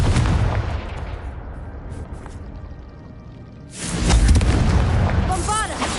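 Booming spell explosions from Bombarda and Confringo in the video game Hogwarts Legacy, loud dense blasts that ease off midway, then surge back in a fresh burst of rumbling impacts.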